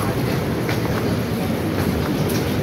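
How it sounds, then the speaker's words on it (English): A train rumbles past close by, a steady loud roar with rattling wheel noise and no speech over it. "Train. Okay, train."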